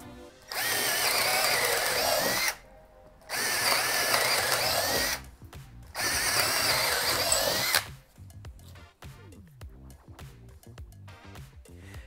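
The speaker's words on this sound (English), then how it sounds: "Half-inch speed bore self-feed auger bit. Stalled on speed 2." A Milwaukee M12 drill in second gear drives a half-inch self-feed auger bit with three loud sustained whirring bursts separated by brief pauses, then stalls into sputtering clicks and rattles.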